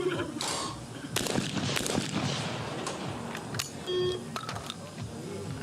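A women's skeet shooting competition in Wroclaw, Poland: a short electronic release beep and a sharp shotgun report, mixed with other bangs and faint voices around the range.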